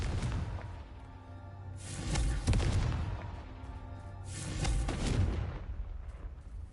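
Two heavy spell blasts of Confringo in Hogwarts Legacy on PS5 boom out a few seconds apart, each a loud fiery explosion with a rushing whoosh and rumbling tail over a low ambient game hum.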